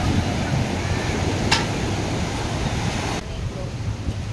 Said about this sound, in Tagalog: Grabe ang lakas na ngayong hangin ngayon